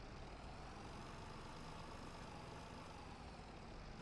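Tractor engine labouring steadily in a farming video game, a continuous heavy low rumble at constant loudness throughout, with no voices.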